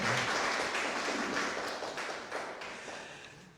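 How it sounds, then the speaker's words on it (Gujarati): An audience at a Gujarati poetry gathering claps together in a steady patter of applause that gradually fades toward the end, with no talking over it. "એ સ્તરે પહોંચાડવા બદલ આ બંને મિત્રોને આપણે તાળીઓથી વધાવીએ"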